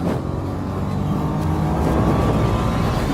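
A Nissan Juke R at full throttle accelerates through a corner in third gear. The engine gives a steady loud roar that builds slightly over a few seconds, heard close with no voices.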